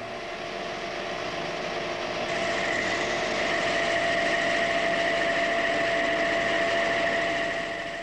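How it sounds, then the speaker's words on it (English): A metal lathe runs with a knife cutting tool feeding along the machine's axis into the workpiece, producing a steady mechanical whine and hum that swells slightly partway through, continuous and unbroken. "On the lathe, it's designed to feed into the work along the axis of the machine."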